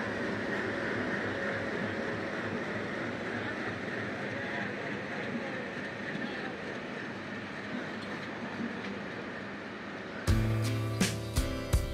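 A petroleum freight train on Bangladesh Railway arrives at Santahar junction, giving a steady low rumble and rolling wheel noise, then sharp clanks and jolts at the end as the wagons come to a stop.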